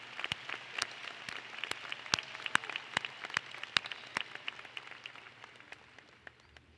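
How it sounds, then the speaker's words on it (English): A graduation audience at a 2018 high school commencement applauds the commencement speaker, a steady patter of many hands clapping at moderate volume that gradually thins out toward the end. "Please join me in another round of applause for our commencement speaker, Grace Rogers."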